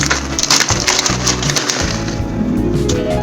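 Dry rice noodles (bihon) go into a boiling pot, giving a loud, close run of brittle crackling and snapping over low bubbling, with no talking.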